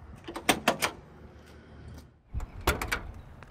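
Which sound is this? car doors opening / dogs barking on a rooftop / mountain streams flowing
car doors opening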